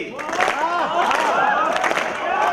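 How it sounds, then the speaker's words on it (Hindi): An audience at a comedy show at Chandigarh University claps and cheers in a steady crowd roar, with a voice speaking loudly over the applause. "तालियां रोक दो थोड़ी देर के लिए"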